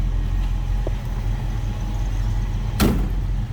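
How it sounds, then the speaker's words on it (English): A 1937 Ford Deluxe Tudor slantback street rod door shuts once with a single solid thump near the end, over a steady low engine idle running in the background. "Door closes nicely"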